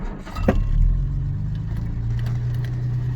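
A 1968 Jaguar MK2 240 with manual gearbox starts up: a sharp starter crank, then the engine catches into a steady low rumble that holds as the car moves off, close and loud.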